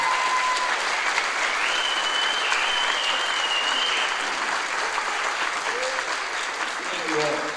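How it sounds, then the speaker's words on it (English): A crowd at a company celebration at a Tulsa terminal claps steadily in sustained applause, with a few whistles and cheers rising over the dense, even patter. "we should have a humongous round of applause for these folks"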